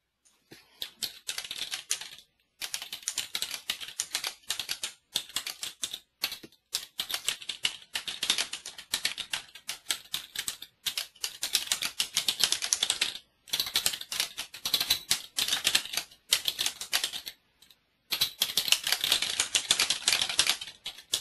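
Someone types a title on a computer keyboard, brisk bursts of close key clicks separated by short pauses, with no voices.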